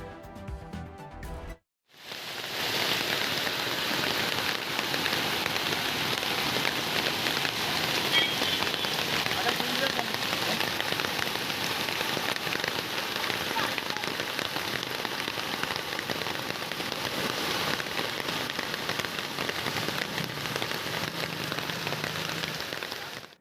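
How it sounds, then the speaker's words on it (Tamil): Heavy continuous rain in the Kovilpalayam area near Coimbatore, a dense steady downpour pattering hard on surfaces after a brief opening burst of other sound, loud and unbroken with no voices. "கோவை அடுத்த கோவில்பாளையம் பகுதியில் தொடர் கனமழை."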